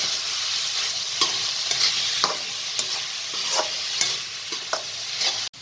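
Grated carrot sautés in hot ghee for gajar halwa, a continuous close crackle broken by regular scraping strokes of a spatula stirring through the pan, ending with a sharp knock.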